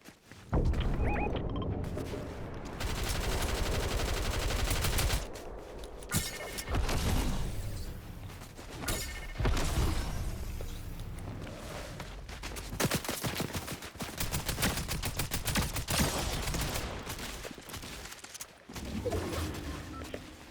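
Video game gunfire from a sniper, with loud, dense volleys of shots and cracking impacts that go on almost without a break for about twenty seconds.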